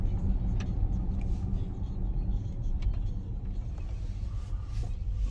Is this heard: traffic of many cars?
yes